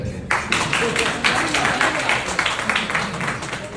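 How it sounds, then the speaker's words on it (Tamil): Audience applause breaking out at a Pongal community gathering, a sustained burst of clapping from many hands that starts sharply and carries on steadily to the end, fairly close and loud. "கைத்தட்டுங்க."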